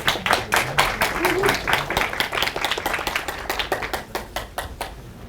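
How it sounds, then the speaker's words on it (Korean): A conference audience claps in loose, uneven rhythm to welcome a speaker at an education event, the applause moderately loud and close and trailing off toward the end. "김민철 선생님을 박수로 모셔보겠습니다"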